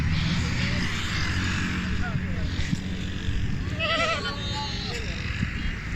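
A male goat being led and handled at a livestock market bleats in short wavering calls over steady crowd noise and nearby talk.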